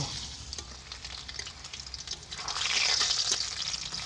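Chopped garlic hits hot white oil in a kadai, giving a steady close sizzle that swells louder and brighter about halfway through, with faint stirring clicks and no talk.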